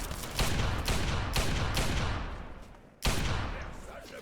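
Rapid bursts of heavy .44 Magnum gunfire from the video game Fallout 3, booming shots overlapping into a dense continuous roar that fades briefly before another loud blast near the end.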